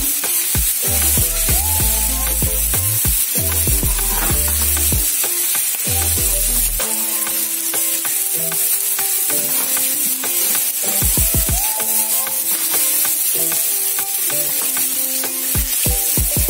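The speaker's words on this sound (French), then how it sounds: "Je vais donc ajouter de l'oignon à l'intérieur. Je mets l'oignon et puis je mets l'ail." Potatoes, onion and garlic sizzle loudly as they fry in a pan, a constant bright crackling hiss close up, with music playing over it and occasional stirring.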